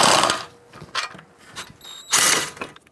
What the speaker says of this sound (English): you're going to use a 15mm socket with a swivel to get to these caliper bolts.